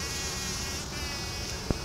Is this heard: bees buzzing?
yes